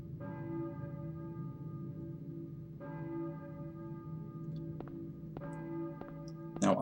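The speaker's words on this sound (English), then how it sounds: "Now I hear something that sounds a bit like church bells." Church bells toll in the Silent Hill video game, resonant ringing strokes with long sustained tones, three or so struck clusters repeating at intervals, fairly faint and alone against a low ambient hum.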